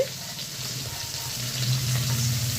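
Water pours from a tap into a bowl of ground onion, garlic, cumin and ginger paste, a steady close splash and trickle that builds slightly louder toward the end.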